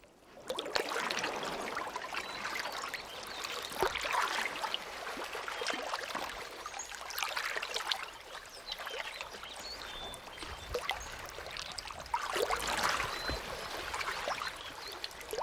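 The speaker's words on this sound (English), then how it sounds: "the sound of the water lapping against the bow" Water laps and splashes against the bow of a traditional cedar-and-canvas prospector canoe, irregular close trickling and sloshing surges with occasional sharper paddle-like splashes and no speech.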